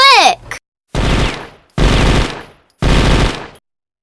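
Gunfire in the Subnautica video game: three loud bursts of rapid automatic fire, each lasting about half a second with short pauses between, following a brief high-pitched whooshing effect at the start.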